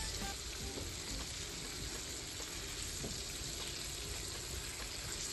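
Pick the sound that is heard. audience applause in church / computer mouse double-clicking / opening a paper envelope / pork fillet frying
pork fillet frying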